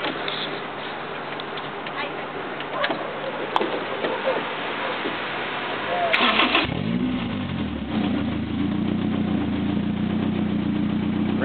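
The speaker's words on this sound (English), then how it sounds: "Here we go, here's the startup." A Toyota AE86 Corolla fitted with an F20 engine cranks, catches around the midpoint and settles into a steady, loud idle close by, with the starter churn giving way to a continuous low engine drone.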